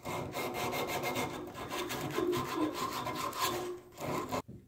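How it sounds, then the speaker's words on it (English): A tub spout pipe is rubbed with 150 grit sandpaper, a steady close scratchy rasping with rapid back-and-forth strokes that stops abruptly at the end. "Cleaning off the spout pipe with some 150 grit sandpaper."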